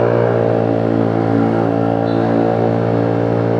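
A modified Honda Giorno scooter, built up from 125 to 160cc, runs its engine at a loud, steady high-revving drone, close by and unbroken for several seconds, with no one talking.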